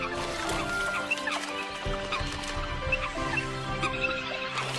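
Eurasian coots on a pond giving short, repeated clucking calls, several birds overlapping near the listener over a soft natural background.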